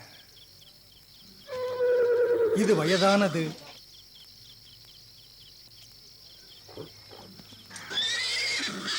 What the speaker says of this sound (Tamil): பிரமாதமான குதிரைகள் இருக்கின்றன.